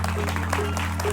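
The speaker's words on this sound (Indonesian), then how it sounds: "tepuk tangan untuk penampung ini" An audience applauds a comic stage performance, a short, dense burst of clapping heard close and continuous over a low steady hum, with faint murmuring voices.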